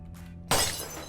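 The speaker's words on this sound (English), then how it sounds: "And of course, you can smash the windows." Car window glass shatters in Unturned: one sudden loud smash breaking into a bright, crackling spray of shards that fades out over a second, heard alone over a low game hum.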